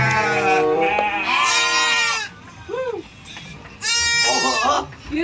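Sheep bleat loudly in a farmyard, with long wavering calls rising over a background of voices. A short quieter bleat sits between the louder ones, and people are talking nearby.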